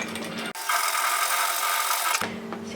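A sewing machine edge-stitches an apron waistband with a steady buzzing, rattling run of about a second and a half. Quieter mechanical hum and clicks sound before and after the run, all close by.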